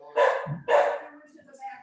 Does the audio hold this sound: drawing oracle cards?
no